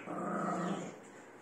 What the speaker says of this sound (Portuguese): O Cross tá pensando assim, meu Deus, um rato tá latindo